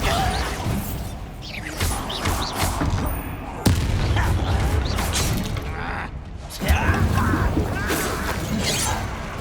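Bombarda spell blasts in the Hogwarts Legacy video game, several loud bursts and crashes amid ongoing combat noise and game voices, with sharp impacts near 3.7 and 6.7 seconds.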